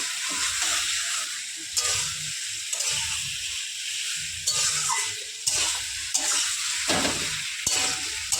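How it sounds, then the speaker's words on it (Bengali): Chicken pieces being mixed with spices in a pot give off a steady close sizzle and hiss with wet stirring and scraping, while occasional faint speech sits under the cooking. "মাংসের সাথে মশলাগুলো মাখিয়ে দেবো একদম সুন্দর করে"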